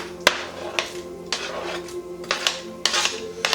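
Onions tipped into a pan while cooking vegan Japanese ramen, giving a string of sharp clattering knocks and scrapes spaced about half a second apart, close and fairly clear over a low kitchen hum.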